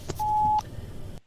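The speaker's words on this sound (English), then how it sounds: "Please leave your message after the beep." A single clean answering-machine beep sounds for about half a second, a steady mid-pitched tone over faint background noise, followed by a short quiet stretch.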